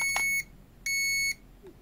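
Two sharp electronic beeps from an S188 GPS drone remote controller during compass calibration, each lasting about half a second, clear and close, with a faint click afterward.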